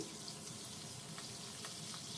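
Large-cut potato pieces fry in hot oil in a pan, giving a steady, soft, continuous sizzle with faint crackles throughout.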